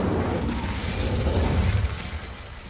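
Incendio fire spell cast in Hogwarts Legacy, a loud low roaring burst with crackling texture sustained for about two seconds before easing off.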